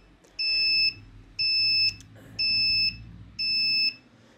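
A PLC parking lot system buzzer sounding four evenly spaced high-pitched beeps, each about half a second long with equal gaps, loud and close with a faint hum underneath.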